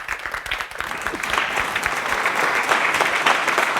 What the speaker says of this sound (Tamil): நம்ம சந்தோஷ்குமாருக்கு எங்க சந்தோஷமா ஒரு கைத்தட்டல் கொடுங்க